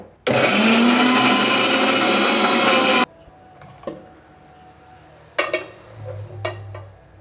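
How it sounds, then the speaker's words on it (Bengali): An electric blender grinds chillies and spices in a loud, steady whir for about three seconds, then stops. A few sharp clinks and knocks of kitchen utensils follow in the quieter room. "এখন আমি মরিচ মশলাগুলোকে ব্লেন্ডার করে নেব"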